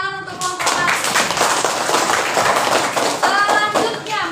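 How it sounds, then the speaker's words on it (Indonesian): A classroom group applauding for group one after a presentation, dense hand clapping from many children that rises quickly and stays steady for several seconds, with a few voices calling out over it. "Nah, tepuk tangan untuk kelompok satu."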